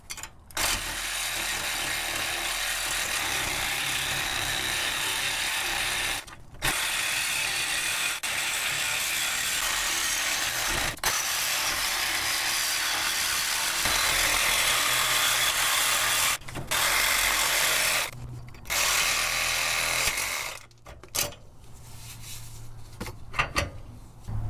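Reciprocating saw blade cutting out a front lower control arm bushing, a loud, steady, harsh buzzing that runs almost continuously and stops briefly a few times before ending in choppy bursts.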